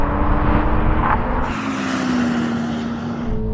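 A 3-litre Toyota Supra at a drag race roars past close by, its loud engine note rising then sweeping away as it passes.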